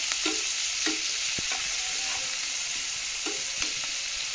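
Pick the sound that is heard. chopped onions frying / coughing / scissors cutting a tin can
chopped onions frying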